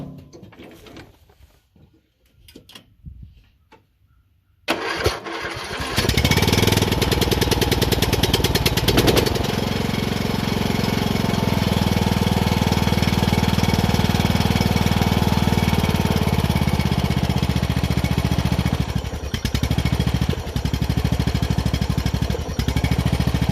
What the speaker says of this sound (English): This time with the choke on, it should start sputtering and carrying on, and it should also start spitting out black smoke, indicating that's running rich.